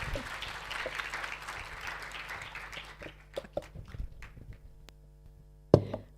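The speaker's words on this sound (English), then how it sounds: "please give a round of applause for Mr." Audience applause for a speaker at an international academic conference, a brief patter of clapping that thins out into scattered claps, then a sharp knock near the end.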